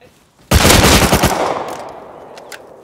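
Loud close burst of AK rifle fire in the video game Rust, a rapid rattling volley lasting under a second that then decays into a lingering echo, with a few faint sharp clicks afterward.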